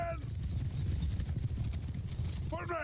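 Cavalry hooves clatter in a steady clip-clop rhythm in Mount & Blade II: Bannerlord, a dense low drumming under a battle's din, with brief game vocal sounds at the start and end.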